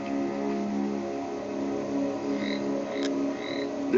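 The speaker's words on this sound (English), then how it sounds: "The toads of Hamburg," Toads in Hamburg, Germany, croak in a continuous, layered chorus of low droning trills with a few higher chirps on top, steady and fairly close, with no talking.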